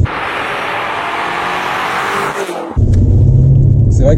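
A BMW M5 in its sportiest mode heard from the cabin: a loud, muffled steady engine roar, a brief dip as a gear changes, then a deeper, stronger rumble as it pulls again.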